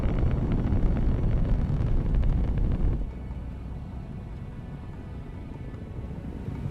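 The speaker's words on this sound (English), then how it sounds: "We have cleared the tower, and the Cassini spacecraft is on its way to Saturn." The Cassini spacecraft's launch rocket roars with a broad, rumbling thunder that cuts off abruptly partway through, leaving a quieter, steady low rumble behind.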